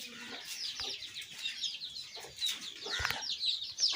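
Chickens on a backyard coop where Turkish hens and a rooster are kept, clucking and squawking near and far, scattered short calls overlapping in a busy, continuous flock chatter with no talking.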